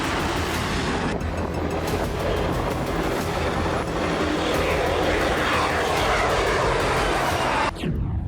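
An F-35 fighter jet flies past with a loud, continuous broadband jet roar that holds steady for about eight seconds, then cuts off abruptly near the end; no voices are heard.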